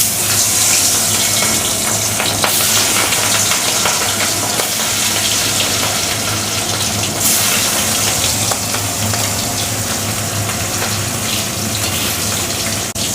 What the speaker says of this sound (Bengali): লাল করে মাছটা ভেজে নেব